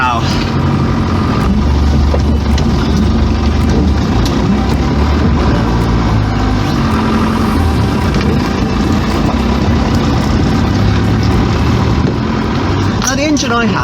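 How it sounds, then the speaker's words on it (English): A Land Rover Defender 90 with the 200 TDI diesel engine idles loud and close, a steady low rumble holding throughout with a brief clatter near the end. "Listen to the engine of this 200 TDI fire up"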